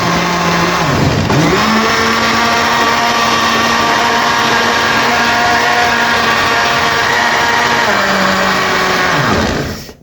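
A blender grinds carrots and apple into a milkshake, its loud steady motor whine running almost the full ten seconds, briefly dipping near the start and cutting off at the end.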